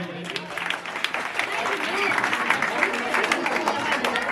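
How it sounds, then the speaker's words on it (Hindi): Applause for Manish sir at a school farewell: dense, sustained clapping from a crowd in a hall, steady and continuous throughout, with a faint murmur of voices mixed in. "जोरदार ताली हो जाए"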